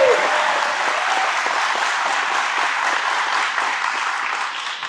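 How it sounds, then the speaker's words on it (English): Round of applause from an audience honoring city management staff at a local civic meeting, dense steady clapping at close range that holds evenly throughout and tapers slightly near the end. "If we could give them a round of applause"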